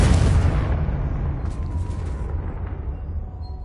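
A Confringo fire spell explodes in the Hogwarts Legacy video game as a deep, loud boom with a rumbling tail that slowly fades over a few seconds, heard alone without talk.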